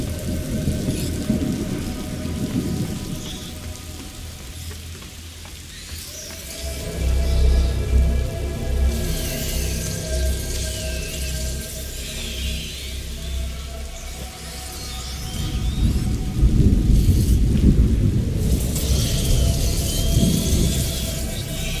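Heavy rain falls steadily in the video game A Plague Tale: Innocence, with low rumbles of thunder that swell and fade, and no voices.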